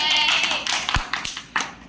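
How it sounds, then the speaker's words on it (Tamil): A class of students claps their hands in a classroom, a dense, noisy patter with a few sharper slaps standing out, fairly loud and continuous. "கை தட்டுங்க"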